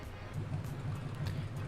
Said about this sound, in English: kind of a weird startup sound.